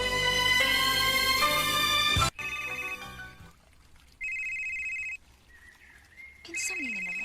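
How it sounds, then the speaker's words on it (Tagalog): A cellphone rings with a loud electronic ringtone melody, then sounds again as repeated bright beeping tones in separate bursts, with a brief voice between rings. "kasaba ba ng cellphone ni mo? Uy, sige mo nagbagting."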